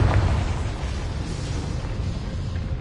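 A Confringo fire spell from Hogwarts Legacy goes off in a goblin mine as a heavy, booming blast with a deep rumbling tail that lingers for a few seconds.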